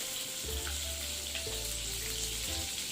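Butter and oil sizzling hot over a high flame before vegetables go in for egg fried rice, a loud, continuous frying hiss with a low hum and faint clinks, no talking.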